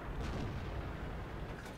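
A Sherman Firefly tank gun fires in World of Tanks, a dense low boom rolling over steady battle rumble for under two seconds, moderately loud and sustained.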